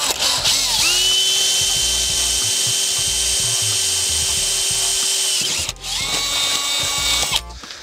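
A power drill whines at high speed through a metal lid for about five seconds, stops briefly, then spins up again in a second short burst.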